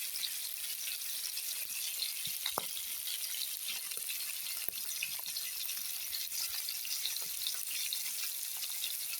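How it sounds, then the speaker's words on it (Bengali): Fish sizzling in a pan of oil while being turned over, a steady quiet hiss broken by occasional sharp clicks and taps from the utensil, with no voices. "এপাশ ওপাশ উল্টে ভেজে নিচ্ছি।"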